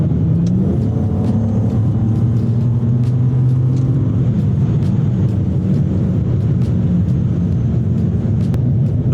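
A turbocharged Hyundai G6E car driving on the road with a steady, loud engine drone heard from inside the cabin, the pitch shifting slightly as it accelerates, with faint ticks and rattles over the top.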